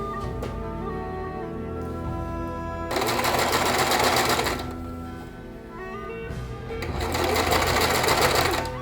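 A sewing machine stitches a seam on a keikogi in two loud fast bursts of rapid mechanical clatter, with a quieter pause and lighter handling sounds between them.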